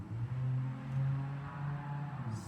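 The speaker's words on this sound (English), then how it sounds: "Stupid loud cars." Loud cars pass outside a home garage, a steady low engine rumble rising and falling over a couple of seconds with no talk.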